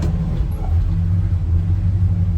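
An old car out on a test drive after repair work, its engine giving a steady low rumble from inside the cabin, continuous and even throughout with no talking.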